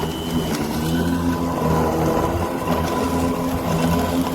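Bosch AdvancedRotak 750 electric lawn mower, a 1700-watt motor, cutting grass on uneven, difficult ground, giving a steady, close humming whine with a constant pitch and no pauses.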